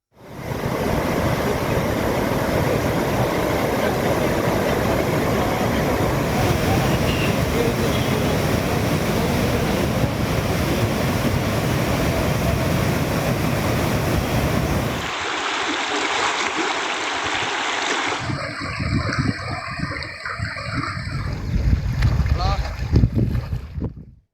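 Heavy floodwater rushes down the Kaveri river in Tamil Nadu after a large release from the Mettur dam, a loud, steady, broadband roar for about fifteen seconds before the sound abruptly thins and changes.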